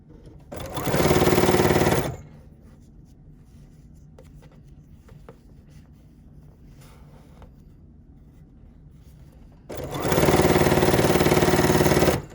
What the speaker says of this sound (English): I'm gonna sew this little piece that I just created to this middle section here